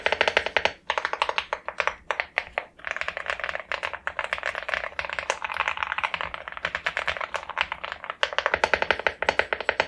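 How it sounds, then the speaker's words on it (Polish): Fingers type on a wireless mechanical keyboard, producing rapid, close clicky keystrokes in uneven bursts with short pauses between them. "Jeśli chodzi o dźwięk przy pisaniu"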